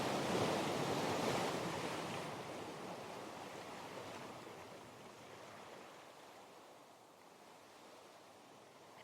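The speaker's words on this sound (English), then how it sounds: "you can hear the sea more clearly, waves rolling in." Ocean waves rolling in on a shore, a broad hissing wash that swells early and then slowly recedes, steady and moderately distant with no voices.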